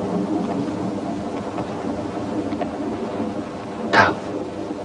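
In a Vietnamese film scene before rain, a low rumbling ambience runs throughout, broken near the end by a single sharp crack of thunder.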